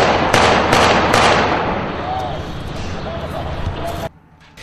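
Loud bursts of grenade explosions during a combat operation in Al Kabun, Syria, several sharp blasts in quick succession at the start, then a dense rumbling roar that fades before cutting out. Voices are heard under the noise.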